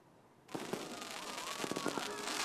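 Fireworks pop and crackle in quick scattered bursts after a short quiet lead-in, sounding moderately distant with no one speaking.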